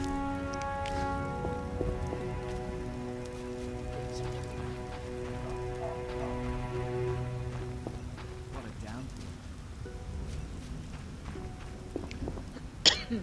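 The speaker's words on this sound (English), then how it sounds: "What a downpour." A rain downpour in The Witcher video game falls as a soft, steady patter under game music, with faint footsteps and a brief cough. There is no dialogue over it.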